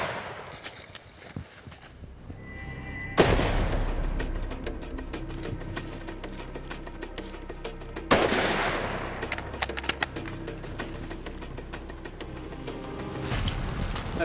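Rifle shots fired at a water buffalo in Australia, with two loud sharp cracks several seconds apart, each followed by rolling echo and outdoor rustle, without talk.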